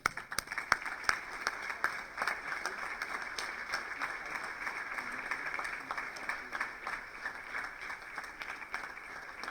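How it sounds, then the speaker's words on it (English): Grade 1 and 2 schoolchildren clapping at a school assembly, a steady patter of many small hands heard from a distance, fairly faint and continuous with a few sharper claps near the start. "We can still hear our grade 1s and 2s clapping"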